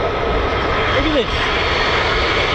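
F-35 fighter jet at takeoff on an air force base, a loud, steady broadband engine roar filling the scene, with a brief voice heard over it.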